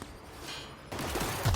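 Gunfire in the video game The Outer Worlds on Xbox One X: a muffled background hum gives way midway to a dense, rough burst of shots that swells louder toward the end.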